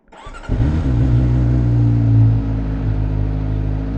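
A CF Moto 500SR Voom motorcycle with stock exhaust cranks and fires up at about half a second, then settles into a steady, loud, low rumbling idle with a brief rev.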